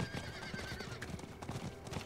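A mount in Diablo IV gallops at speed, its hooves drumming in a quick, even rhythm, while a neigh rises over the hoofbeats. The sound is near and continuous, with no voices.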